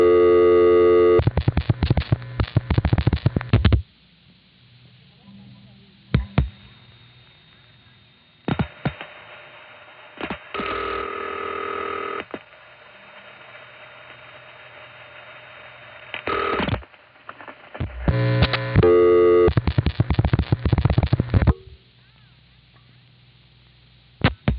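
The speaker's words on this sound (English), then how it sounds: "We get a really noisy trunk from White Plains up to Monticello." Telephone trunk line from White Plains up to Monticello crossbar tandem, 1974, with loud bursts of tones and signaling separated by stretches of hissy, hum-laden line noise.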